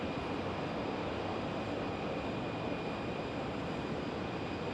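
A jet airliner rumbles steadily at Phoenix Sky Harbor Airport, a faint, distant, continuous engine roar with no talk.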